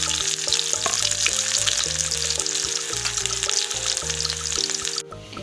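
Chopped onions fry in hot mustard oil in a wok, a steady, close, bright sizzle running without pause over a low tonal hum, briefly dropping away near the end.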